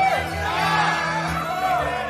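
A crowd of pirates cheers for Captain Bonnet with overlapping shouts and whoops. The cheering stays steady and fairly loud, mixed with voices and a low music bed.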